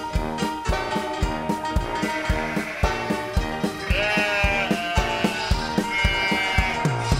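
Cartoon sheep in a flock bleat over a bouncy preschool song with steady beat and backing music, their wavering calls sitting well above the accompaniment.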